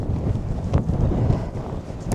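Strong wind gusts buffet the microphone on a sunny day in Iceland, a loud, continuous rough roar that swells and dips over about two seconds with no other sounds.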